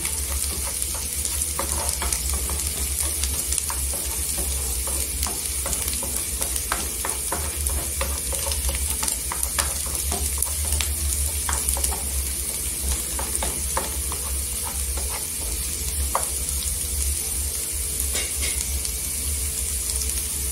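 Onion and garlic fry to golden in a pan while dry spices are stirred in, making a steady, close sizzle with scattered scraping stir clicks throughout, and no talk.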